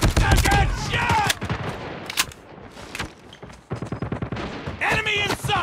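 Call of Duty multiplayer gunfire, with loud rapid bursts of automatic shots and sharp single cracks, close and dense, broken by a short quieter gap and mixed with game voice callouts.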